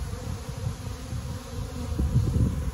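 A fall swarm of honeybees hums with a low, continuous buzzing drone, close and steady, with a few louder pulses near the end.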